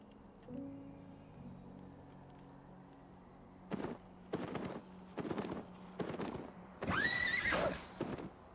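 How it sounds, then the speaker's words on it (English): A horse in a video game whinnies shrilly up close, and a run of hoof clip-clops and thuds follows over a quiet background. "I hear their horse."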